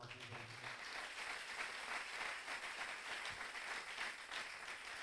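Church congregation at a French-language service applauding, dense steady clapping from many hands filling the room throughout, moderately distant with no speech over it.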